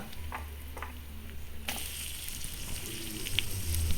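Onions frying in coconut oil with chopped ginger, garlic and green chili make a steady soft sizzle that grows slightly busier partway through, with faint stirring sounds.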